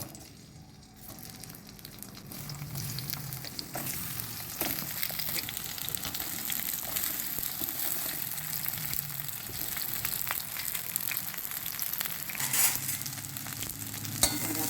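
Sliced ridge gourd dropped into hot oil in a pan, sizzling and frying steadily with a dense crackling hiss that swells slightly, plus a few brief clinks and stirring sounds, with no talk.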